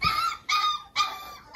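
Young puppies from a litter whimper and whine in three high, drawn-out bursts close to the listener, each cry separated by a brief pause, with no talking.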